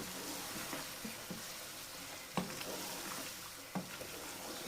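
Peas and chopped tomatoes frying in a pan, a soft continuous sizzle with a few stirring clinks and knocks, fairly quiet and close, no talking.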